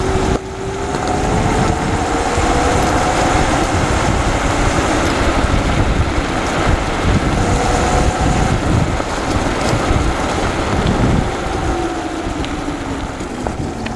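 A homemade electric go-kart runs flat out down a straight, its steady motor whine drowned in a loud, continuous wind rush over the microphone from start to finish.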